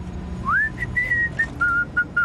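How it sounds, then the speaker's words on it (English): A cartoon character whistles a bright tune inside a car, the melody rising then holding in clear sustained notes with short breaks, loud and alone over a low engine rumble. "Are you going to whistle this whole trip?"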